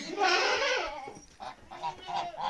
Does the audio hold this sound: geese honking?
yes